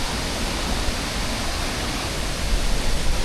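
A Sri Lankan waterfall pours in a dense, steady roar of rushing water, loud and close, with no break or change over the few seconds.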